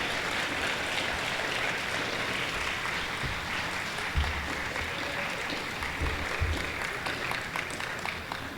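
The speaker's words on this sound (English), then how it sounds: "I think we really should give a round of applause for Jitu Brown." Conference audience at a Save Our Schools gathering breaking into sustained, loud applause that fills the room, with a few low thumps and some murmuring in the crowd.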